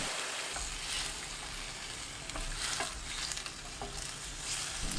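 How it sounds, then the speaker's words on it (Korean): Lotus root, with sweet pumpkin for a braise, stir-frying in a hot pan gives a steady, close crackling sizzle that runs the whole time, with a few sharper spatters and stirring scrapes. "팬이 달궈지면서 지글지글 소리가 나면 그때부터 1분 볶습니다."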